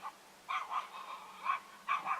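Dogs bark in short, sharp bursts, a few paired yaps spaced over two seconds, sounding distant and somewhat thin against a quiet background.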